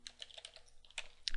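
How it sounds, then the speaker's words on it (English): Typing on a computer keyboard: quick, light, irregular key clicks at close range, with a slightly louder tap near the end. No voices. "We'll type in yum space -y space install"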